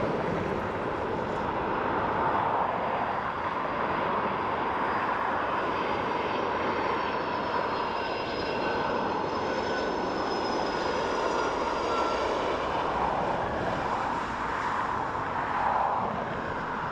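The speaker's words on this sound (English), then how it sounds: "Nicely down by the 757" A Boeing 757 lands at Dublin Airport, crabbing into a crosswind, with a steady broad jet roar that holds for the whole stretch, loud and unbroken, with a faint high whine above it.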